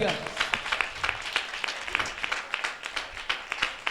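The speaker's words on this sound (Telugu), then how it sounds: "ఇప్పుడు కొట్టండి చప్పట్లు గట్టిగా." A church congregation clapping together in a quick, steady rhythm during a service, the sharp claps close and continuous, with a voice speaking over them.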